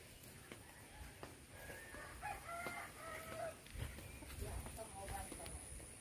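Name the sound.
chicken crowing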